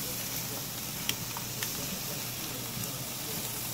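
Wahoo fish sizzles on a hot Primo grill as a steady, broad hiss, with a few faint pops and crackles rising out of the frying noise.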